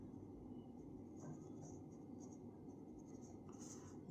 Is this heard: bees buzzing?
no